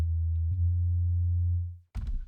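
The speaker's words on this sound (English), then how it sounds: "I have a sine wave, and this is just cranking on a normal sine wave." Plain sine wave from a synthesizer, a steady loud low bass hum held for about two seconds before fading out, followed by a short burst of noisy rustle.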